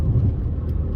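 Interior of a high-mileage, neglected Vauxhall Astra VXR Nurburg on the move, a steady low engine rumble and road drone heard close from the driver's seat, continuous with no talk.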